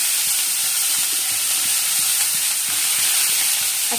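Carrots, beans and capsicum frying in white oil in a pan, a loud, dense, continuous sizzle and hiss with no pauses.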